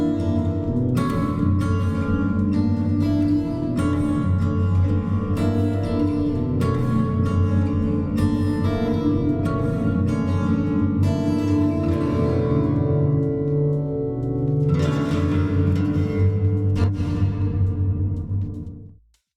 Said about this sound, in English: we are getting really that very large chamber sound added to our guitar.